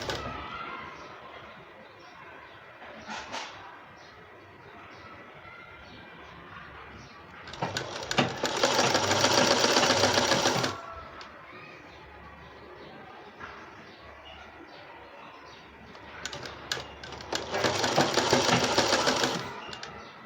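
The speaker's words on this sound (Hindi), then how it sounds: "इस तरह हम बगल पे घुमाते हुए सिलाई लगाते चले जाएंगे पट्टी पर।" Sewing machine stitching a binding strip onto a baby frock, running in two steady whirring bursts of about three seconds each, with quieter pauses and a voice speaking in between.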